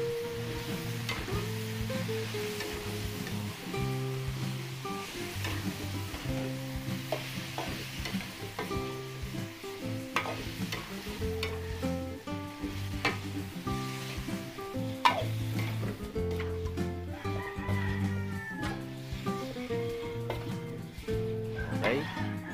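Marinated cubed pork for menudo sizzles and spatters in a hot pan, a steady crackling fry with stirring, while music plays throughout at a moderate level.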